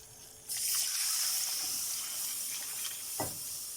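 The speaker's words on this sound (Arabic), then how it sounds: "ده عملنا الدقيق، نعمل ايه بقى؟ نضيف عليه اللبن بتاعنا" Milk is poured onto cooked flour in a pan for béchamel sauce, making a splashing, hissing pour that starts abruptly. A brief extra splash comes near the end, with no voices.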